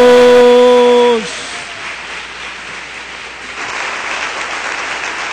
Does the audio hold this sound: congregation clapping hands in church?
yes